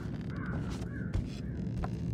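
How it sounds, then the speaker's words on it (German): A crow caws in the video game Thief, a few raspy, harmonic calls repeating over a steady, dense game ambience with no talking. "Ist dieser Vogel da im Gang immer noch so am Abgehen"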